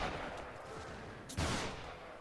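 Musket volley from line infantry in Mount & Blade Warband, set during the American Revolution: a single loud, sharp report cracks out partway through, over a steady rumble of battlefield noise.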